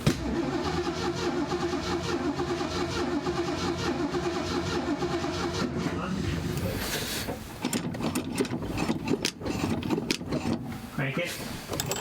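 A 1970s Ford Mustang Mach 1, hidden for 40 years and not yet fueled, cranks over with a steady rhythmic starter churn, then brief choppy bursts follow; people talk nearby.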